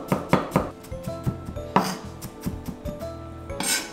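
A knife chops garlic on a cutting board in a home kitchen, crisp, close, rhythmic taps in quick bursts with short pauses and no voice.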